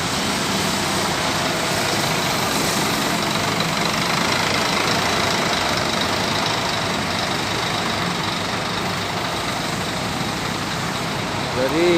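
A Scania K410IB tronton coach of the Makmur bus line idles with a steady, loud diesel rumble and faint knocking, droning on without change close by, with talk mixed in.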